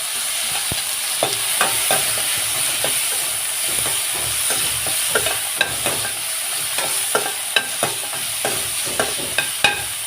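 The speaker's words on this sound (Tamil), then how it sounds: "இப்போ வெங்காயம் தக்காளி நல்லா வதங்கட்டும்" Onion, tomato and green chili sauté in a pan for a Tamil brinjal kootu under a steady loud sizzle. A spoon stirs and scrapes at an uneven rhythm close by, and no one speaks.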